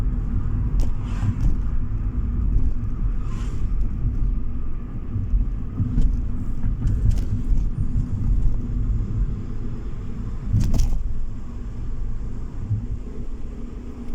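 A car cruises down a straight road, its engine and tyre rumble forming a steady, loud, broadband drone throughout, with a few faint higher clicks and no voices.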